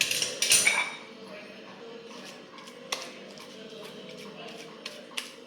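A small metal bowl clinks and taps against a plate while pressing hot gram-flour vadis flat, a few sharp clinks first, then sparse light taps over quiet background.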